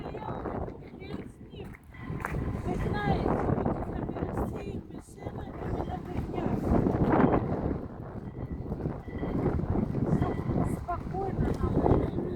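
Cold wind buffets the microphone at Glyfada, Greece, a steady low roaring rush that swells and dips throughout, with a person talking over it.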